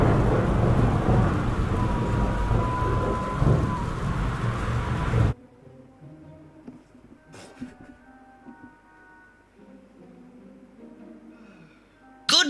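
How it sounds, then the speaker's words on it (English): Heavy rain and rumbling thunder from a powerful video-game storm roar steadily for about five seconds, then drop away to faint game ambience with a brief crack near the end. "This is a particularly powerful storm."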